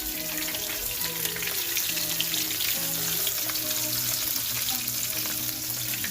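Fish frying in very hot oil, giving a steady, loud, dense sizzle and crackle that holds evenly throughout with no voices.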